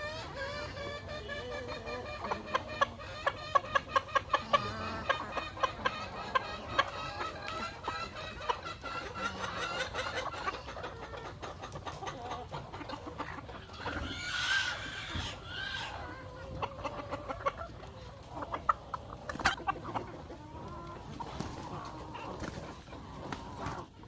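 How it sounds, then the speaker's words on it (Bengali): Native chickens clucking as they eat homemade feed, several birds giving short irregular clucks close by over a constant farmyard background, no voices. "আমার মুরগিগুলো এই ধরনের খাবার প্রচুর পরিমাণে খায় যেটা আপনাদের সরাসরি দেখাবো"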